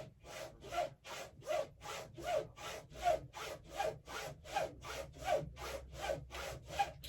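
A straight razor is stropped in about ten steady, evenly spaced back-and-forth strokes, each a soft close-up swish, quiet and rhythmic with no talking.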